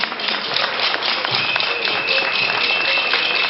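Audience applauding a vice-chancellor at a gala match final in Cotonou, Benin: steady dense clapping from a crowd, fairly loud and continuous throughout.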